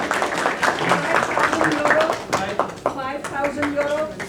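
Audience clapping at a fundraising event for a hospital in the Netherlands, dense hand claps filling the room for several seconds while voices talk and call out over it.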